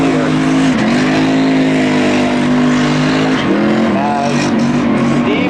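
Spectator drag racing cars accelerating hard at a Spooktacular Thrill Show season finale, a loud sustained engine roar with rising revs and a gear shift partway through, the crowd and commentary faint beneath.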